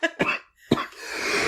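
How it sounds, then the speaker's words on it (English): A couple of sharp, close coughs in quick succession, followed by a brief pause and a rising breathy rasp. "I have a major cough today."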